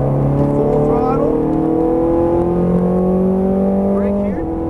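A Ferrari F430 Scuderia engine pulls hard at full throttle, a loud, close, rising howl climbing steadily in pitch before easing off near the end.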